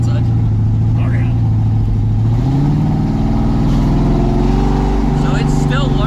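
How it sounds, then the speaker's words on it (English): A 1968 Camaro V8 fitted with a Holley EFI Sniper idles loudly and close by, a steady low rumble with a slight wavering, while a person talks over it. "It's just the idle, just the sound of the idle."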